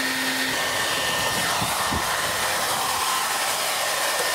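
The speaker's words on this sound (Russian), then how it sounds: "Включаем фен." A hair dryer plugged into the mains and switched on for a tennis-ball airflow demonstration blows a steady, loud, unbroken whoosh across the whole stretch, with no talking.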